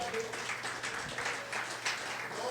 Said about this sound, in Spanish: Puedes darle una ofrenda de palmas al Señor.